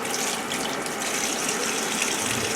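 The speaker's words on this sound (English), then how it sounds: "So we're just going to turn a little water on and get them rinsed to get the rest of that little bits out." Tap water runs steadily over freshly cleaned blue crabs, a close continuous gushing splash with faint rattling in the sink, no talking.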